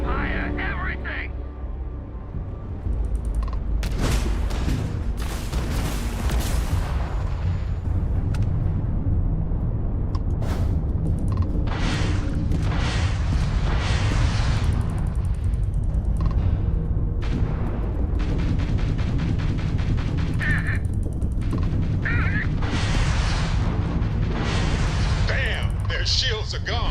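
Spaceship weapons firing in a Starfield space battle: loud booming blasts and bursts of crackling fire over a constant rumbling engine bed, with repeated impacts throughout and a voice speaking at times.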